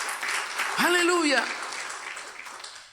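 A church congregation applauds in a dense, steady wash of clapping that slowly fades, while a voice rises over it in a short exclamation.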